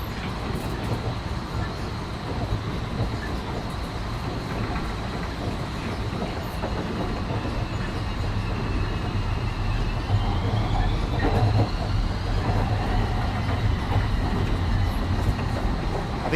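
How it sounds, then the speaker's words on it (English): Train in the Train Sim World 4 game rumbles steadily past, a continuous rolling rail noise with clickety wheel beats and a rising whine, close and sustained throughout. "I think that was the train that was blocking us."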